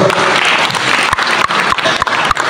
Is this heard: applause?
yes